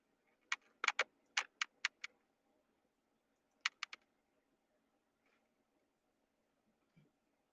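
Typing on a cheap $10 USB computer keyboard, sharp clicking keystrokes in a quick run of about eight, then a short pause and three more, close and clear in an otherwise quiet room.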